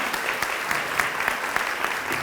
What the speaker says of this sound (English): If we can please give a round of applause for that